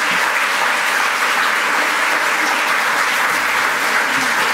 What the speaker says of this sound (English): please, ladies and gentlemen, give a warm applause to Professor Claudio Magris.